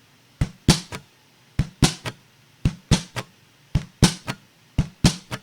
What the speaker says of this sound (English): kick, then kick snare, and then upstroke with your fingers slightly removed from the fretboard